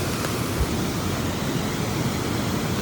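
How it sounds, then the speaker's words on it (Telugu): Polluru waterfall in the Maredumilli forest rushes with a steady, dense roar of falling water, loud and continuous with no voices. "ఫైనల్గా వాటర్ ఫాల్ దగ్గరికి అయితే వచ్చేసాం ఫ్రెండ్స్."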